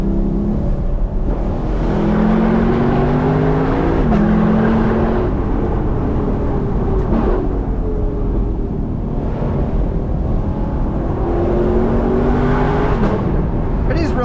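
A Lexus LC 500 convertible with a V8 and ten-speed automatic accelerates hard, the engine note climbing steadily through each gear and dropping at every shift, loud and close throughout.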